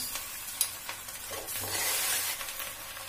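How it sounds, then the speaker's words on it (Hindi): Green chilies and tomatoes fry in melted butter in a pan, giving a short burst of loud, close sizzling with light stirring scrapes. "थोड़ा सा बटर ऐड कर देते हैं हरी मिर्च डाल रही हूँ टमाटर डाल दिए"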